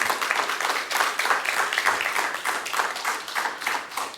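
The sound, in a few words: congregation applauding in church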